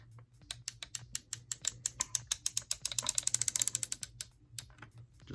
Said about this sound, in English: spin it 180 degrees on the really nice Clicky Ratchet